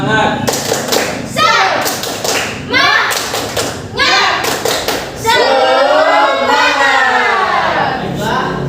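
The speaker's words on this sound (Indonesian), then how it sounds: "Tepuk semangat" Schoolchildren in a fifth-grade classroom do a rhythmic spirit clap, loud bursts of unison clapping and thumping in a patterned beat, with children's voices chanting along and then a sustained group call.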